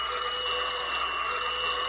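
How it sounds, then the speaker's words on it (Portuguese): A doorbell rings steadily in a room, one unbroken, shrill metallic ringing that fills the whole moment at even loudness. "Eita, tocando a campainha."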